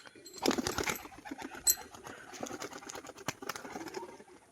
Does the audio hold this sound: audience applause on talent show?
no